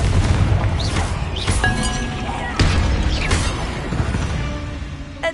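Bombarda blasting spell in Hogwarts Legacy, a loud booming explosion with crumbling, crashing debris and a lingering rumble inside a tomb, several impacts in sequence.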